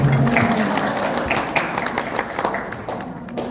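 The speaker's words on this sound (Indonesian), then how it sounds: "Tepuk tangan buat kita semua." Workshop audience clapping in a small crowd at a cybersecurity training event for small businesses, a brief burst that fades over a few seconds while a voice lingers faintly at the start.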